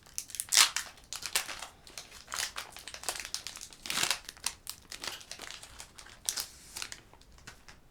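Foil wrapper of a Pokémon trading card booster pack being torn open and crinkled by hand, a run of close, crisp rustling and crackling bursts with no talking.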